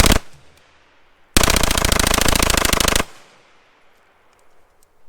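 A Cobray M-11/9 fires at a metal target: one sharp shot, a pause, then a loud, rapid burst of about a second and a half, each ending in a ringing decay.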